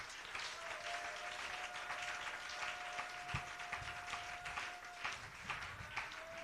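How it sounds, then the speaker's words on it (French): A crowd applauding and cheering at a religious gathering, steady dense clapping with a thin sustained tone running through it, heard at a low level. "Acclamons pour le roi des rois"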